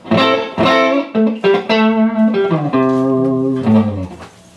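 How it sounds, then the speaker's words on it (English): A clean electric guitar runs through a delay pedal that is switched off, giving dry, loud, sustained notes and chords played in a short melodic phrase with no echo. "Right now, this is the guitar with nothing on it."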